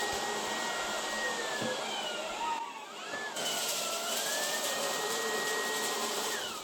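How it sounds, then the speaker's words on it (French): A Dreame R20 cordless stick vacuum's motor whines steadily on carpet, then briefly cuts out and drops away before spinning back up to a loud, continuous high-pitched roar. "c'est le moteur d'aspiration qui se coupe parce que l'aspirateur considère que le conduit d'aspiration est bouché"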